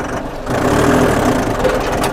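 A Kubota or Iseki walking tractor engine runs loud and close in fourth gear, a rough, continuous chugging drone that labours throughout.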